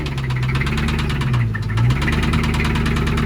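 A big truck engine idles with a deep, steady rumble and faint knocking, close by and unbroken, with a slight dip in pitch midway.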